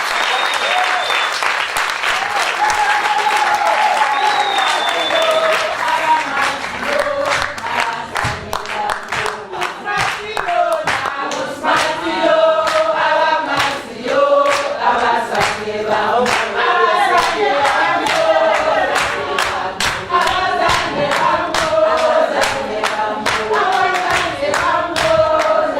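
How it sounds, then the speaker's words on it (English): Long, lively round of audience applause welcoming a guest at a church-style gathering, loud, crisp hand claps from a close crowd with sharp individual slaps, mixed with cheering voices and murmured talk throughout. "Can you please just clap hands for him?"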